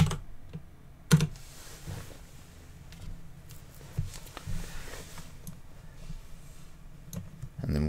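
Typing on a computer keyboard at a console, scattered soft key clicks with a few sharper taps, quiet and close, under low background noise.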